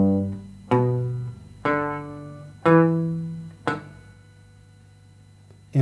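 Rockabilly finger-picked guitar arpeggio from a solo, with a string muted by the left hand for a ghost note: five or six bright plucked notes ringing and decaying in a steady pattern, close and solo.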